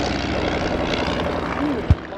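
A Royal Aircraft Factory SE-5A biplane flies overhead during a Great War display at an air show, its propeller engine droning steadily at moderate distance, with a brief sharp bump near the end.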